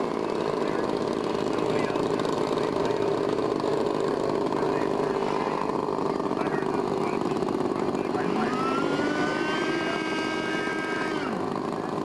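Radio-controlled model airplane engine buzzing steadily in flight, a continuous droning whine that rises and falls in pitch as the plane passes, with someone talking over it.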